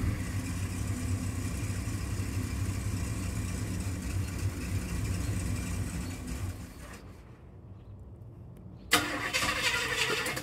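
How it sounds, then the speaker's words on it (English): A 400 small-block Chevy V8 in a K20 truck with a 400 turbo transmission fires up for the first time, a loud, rough, steady engine roar that drops briefly before a sharp burst, close and with no talk. "here's the first startup, trying to get all the grease off it"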